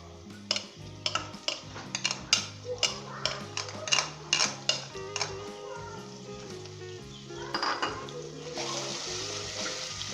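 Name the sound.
frying ginger garlic with browned onions in a pot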